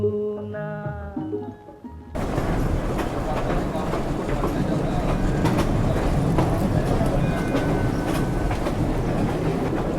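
Bhakra railway train on the Nangal Dam line rumbling steadily along the tracks with clattering wheels, loud and close, following a brief stretch of music at the start.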